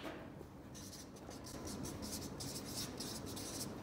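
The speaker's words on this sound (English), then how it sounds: "Now let's write this on the board so we don't lose track." A marker squeaks and scratches across a board in a run of short, rapid strokes, faint and close, with no talking over it.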